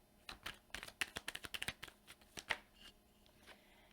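Tarot cards shuffled by hand to draw one more card, a quick series of crisp riffling snaps and flicks, fairly close and moderately quiet, with no talking.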